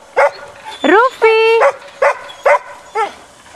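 Dogs at a family home bark loudly and close by, with several sharp, separate barks mixed with a rising whine and a drawn-out yowl.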